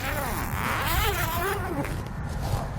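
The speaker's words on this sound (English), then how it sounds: "Now we can unzip it all the way to the front" A zipper on the cover of a Rhino-Rack Batwing Compact awning is drawn open in one long, buzzing pull, close up and steady.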